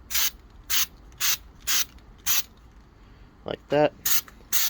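A spray paint can lays a thin coat onto a 1984 Corvette valve cover in short, evenly spaced hissing bursts, about a half-second apart. Someone speaks briefly midway, then the spraying picks up again.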